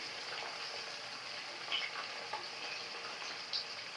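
Koi fish frying in oil, a soft continuous sizzle with light stirring scrapes and a few small pops, faint and steady.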